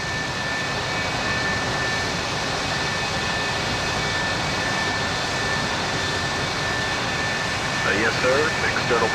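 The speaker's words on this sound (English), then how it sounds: "Task 4, engine start procedure completed." An F-4 Phantom jet engine in a flight simulator runs with a steady, loud roar and a high whine held through the whole stretch, while a voice speaks briefly near the end.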